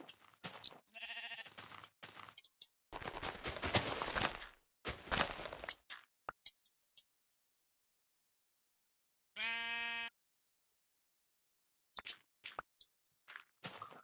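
Sheep in Minecraft bleat in a couple of distinct short calls, mixed with block-breaking crunches and plopping sounds, separated by stretches of silence.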